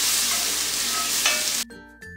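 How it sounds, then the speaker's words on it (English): Flour stirred into softened vegetables sizzling in a pot for beef stew, a steady, close, loud frying hiss with faint scraping of the spoon, cutting off abruptly near the end before resuming briefly, with no one talking. "I'm going to add my flour. And I'm going to stir it there."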